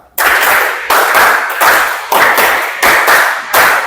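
Classroom ice-breaking clap game, a group clapping hands together in rhythmic bursts, several loud sharp volleys with short pauses between, close and without talk.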